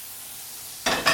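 Butter hitting a hot pan while cooking spicy papaya prawns, two short crackling sizzles arriving near the end after quiet.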